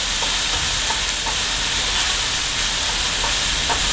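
Ginger, garlic and chili fry in a pot for a Caribbean stewed chicken, giving a steady, dense sizzle and hiss with faint stirring ticks underneath, no voices.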